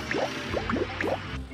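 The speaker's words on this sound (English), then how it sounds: "there's something dripping from his tanker." Liquid drips from a cartoon tanker truck in a short run of quick, soft plinking drops, about half a dozen falling in an uneven patter at low volume.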